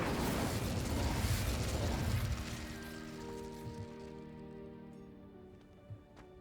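Incendio fire spell cast in Hogwarts Legacy, a burst of roaring, crackling flame that starts loud and then settles into a fading sizzle, under a layer of tonal game music.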